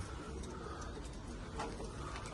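Pigeons cooing softly inside a coop during a poultry tour in Mersin, Turkey, a low steady murmur of cooing against constant broadband background noise with no talk.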